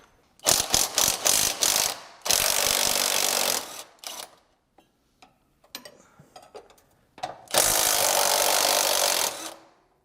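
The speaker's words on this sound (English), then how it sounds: "These are 17 millimeter bolts. So let's get those taken off." A ratchet backing out 17 millimeter bolts during a Rough Country Talon hitch install: rapid close clicking strokes, then long loud continuous ratcheting runs separated by quieter clinks and a pause.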